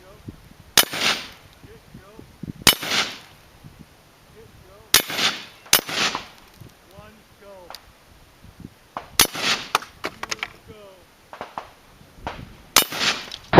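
A rifle firing 5.56 green tip rounds at a steel plate from 50 yards, with sharp loud reports spaced a couple of seconds apart, some in quick pairs, and quieter voices between shots.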